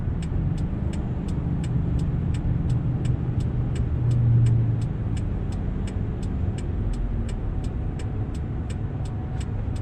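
A supercharged 2015 second-generation Toyota Tacoma with a six-speed transmission drives through traffic, its steady engine and road rumble loud and close throughout, swelling slightly as it accelerates.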